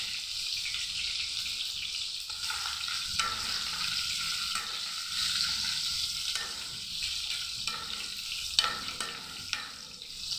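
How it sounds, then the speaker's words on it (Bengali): Potatoes frying with turmeric and salt for a vegetable biryani, a steady close sizzle running throughout with occasional stirring scrapes and small crackling bursts, no voices. "একটু হলুদ আর একটু লবণ দিয়ে আমি আলুগুলোকে ভেজে নিব।"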